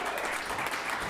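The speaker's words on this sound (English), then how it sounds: "big round of applause for Dawn Schary!" Audience applause for comedian Dawn Schary at a girls' night out comedy show, a dense steady burst of clapping from a crowd, close and loud, with no talk over it.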